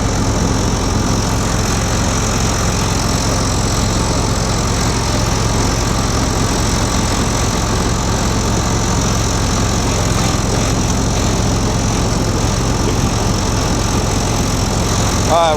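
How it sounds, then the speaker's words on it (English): A loud engine running steadily at a barely cracked-open throttle, a dense, continuous mechanical roar that holds level throughout with no pauses. "I just barely got the throttle cracked on it. It sounds a little loud."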